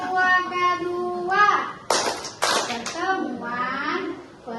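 Rhythmic group clapping for the Tepuk P2K2 clap chant at a family skills meeting, sharp unison claps in short bursts between stretches of chanted voices.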